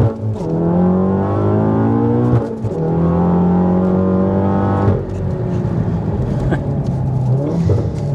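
A Volkswagen MK7 Golf R track build accelerating on a race track, its engine note climbing steadily through the revs, loud and close from inside the car, with a brief dip and shifts in pitch along the way.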